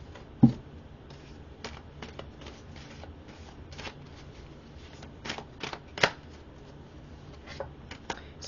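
Tarot cards shuffled by hand in a quiet room: soft papery riffles and flicks, with a few sharper snaps and taps standing out near the start and middle, all close and fairly faint.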